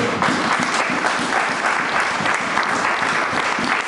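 A church congregation applauds in acclamation of the Lord, sustained and even clapping from a crowd that fills the whole clip at steady strength, with no voice rising above it.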